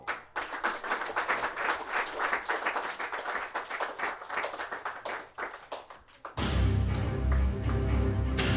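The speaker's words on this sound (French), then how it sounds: "Applaudissez encore pour" An audience claps together in a dense, lively round of applause that runs for several seconds before cutting abruptly into a different, steadier background with low rumble.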